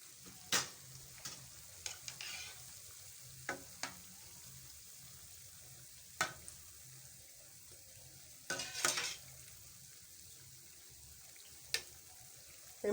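Nigerian puff puff dough frying in oil and being stirred: a soft, low sizzle throughout, broken by scattered sharp clicks and scrapes from the stirring utensil, some clustered briefly. Quiet and close, with no voices.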